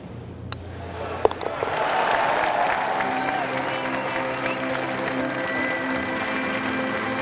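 A golf gallery applauds a player going for eagle on the course, with a few sharp claps that swell into sustained, loud crowd applause.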